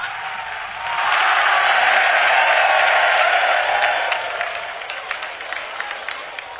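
A large crowd at a Bageshwar Dham religious gathering breaks into loud, sustained applause that swells quickly, holds for several seconds, then thins into scattered claps.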